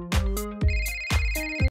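A mobile phone ringtone goes off in a coffee shop as an incoming call arrives, playing three loud, close, repeating melodic bursts with nothing else audible.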